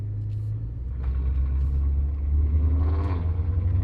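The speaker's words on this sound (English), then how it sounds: "we are actually going to have a race with the VR6 and the R32" VW Jetta VR6 and R32 cars rev their engines at a drag race start, a loud low rumble that swells as the revs climb, heard close with no talk.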